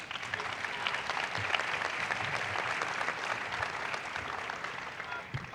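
Steady audience applause at a franchising business conference, a faint, even wash of many hands clapping continuously without pause.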